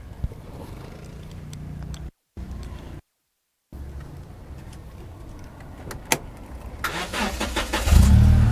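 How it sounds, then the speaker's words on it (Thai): A 2012 Toyota Vigo Champ cab pickup with a 2.7 petrol engine and manual gearbox is started. A quiet stretch with a few clicks comes first, then a loud cranking burst that settles into a running engine near the end. "เดี๋ยวผมพาไปชมห้องเครื่อง สตาร์ทฟังเสียงให้นะครับ"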